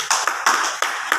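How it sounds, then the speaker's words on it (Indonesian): Audience clapping at a family arisan gathering with a church blessing, a dense burst of hand claps swelling in several waves, close and lively, with no talk over it. "Berikan dulu tepuk tangan"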